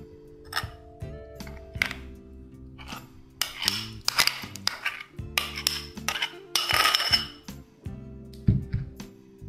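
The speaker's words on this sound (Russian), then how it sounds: "Перемешиваем." Beet salad with cheese and garlic dressing is stirred in a bowl, giving repeated scraping and clinking of a utensil against the dish, with some bursts louder and busier than others and steady background tones throughout.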